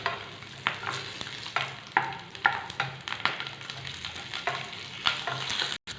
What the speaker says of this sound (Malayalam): വെളുത്തുള്ളിയും ഇവിടെ മൂത്ത് വന്നിട്ടുണ്ട്